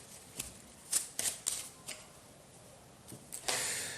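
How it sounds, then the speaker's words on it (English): A deck of order cards for the Entrenched: Gallia Guards board game is shuffled in a few quick riffling bursts, close and fairly quiet, ending in a longer ruffle. "You get the order deck and you shuffle them."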